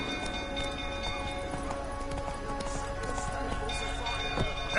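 Roach, Geralt's horse in the video game The Witcher, gallops with rapid, continuous clip-clop hoofbeats over a steady game backdrop of music and ambience, loud and close, with a brief whinny-like tone.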